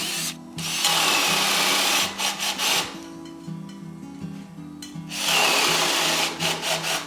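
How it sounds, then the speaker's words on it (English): A drill bit bores a hole in wood for a raised vegetable planter box, a loud grinding run that stops briefly around mid-clip, then resumes, close and alone with no talk. "That's where you're going to place the drill bit to drill the full hole."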